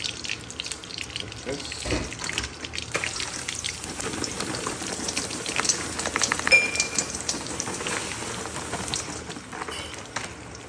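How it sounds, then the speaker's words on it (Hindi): Dry fruits roasting in ghee in a pan give a steady, close crackling sizzle that runs without a break and with no voices. "घी डाल के ड्राई फ्रूट रोस्ट करो"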